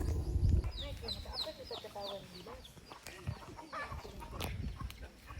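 Chickens cluck and chatter throughout, with a few higher squawks, close by in an outdoor setting with low background rumble.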